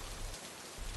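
Heavy rain falls at night in a steady broadband wash, loud and close, with a brief drop in the low rumble midway before it returns.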